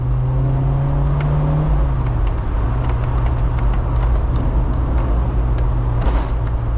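A VW Golf GTI Mk1 engine pulls the light car along, a loud steady drone with a falling then settling pitch, heard from inside the cabin with no talk over it.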